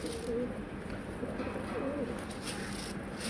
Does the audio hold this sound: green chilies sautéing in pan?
no